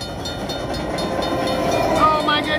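A slot machine's train sound effect plays during the Luxury Line bonus, a loud, dense rumble of rolling rail noise with faint clatter, running steadily and alone for a couple of seconds.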